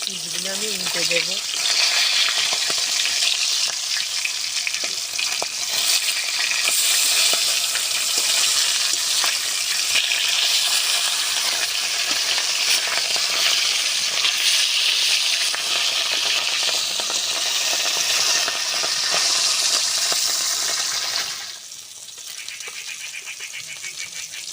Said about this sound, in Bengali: মাছের পিসগুলো আমি উল্টে দেবো।